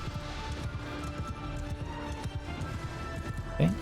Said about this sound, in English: Horse archers look like they're charging.